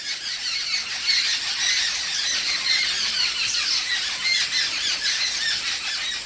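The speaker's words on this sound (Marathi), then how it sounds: "असे जेव्हा पाखरं ओरडतात ना मोठ्या प्रमाणात" A dense chorus of birds squawks and shrieks continuously, many calls overlapping at once, loud and agitated with no pauses.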